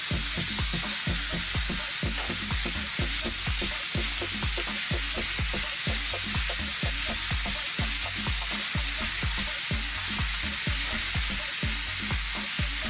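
A T-bone porterhouse steak sizzling loudly in a hot pan, continuous crackling fat with rhythmic spoon-basting splashes and flips, close and alone without voices.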